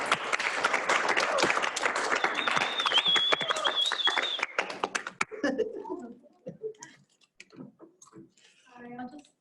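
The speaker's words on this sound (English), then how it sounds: "Let's give Kylie some claps." Applause from an audience for a presenter at a talk on technical interview tips: dense, steady clapping for about five seconds, then it thins out and fades into scattered faint sounds and brief voices.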